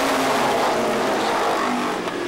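A pack of 350 supermodified race cars accelerates back to green at Star Speedway, a loud, dense roar of many engines blending together and heard from the stands for a couple of seconds.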